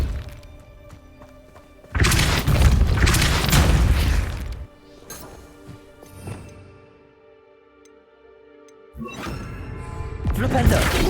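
A Depulso spell cast in Hogwarts Legacy lands as a loud, booming thump with a crashing burst lasting about two seconds, followed by quieter game effects, then another heavy impact burst near the end.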